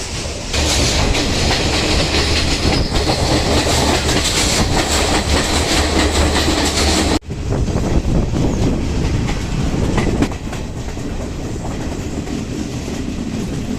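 A train in Sri Lanka rumbles, sways and rattles continuously along the tracks, loud and close, with a dense clatter of wheels and a brief jolt partway through.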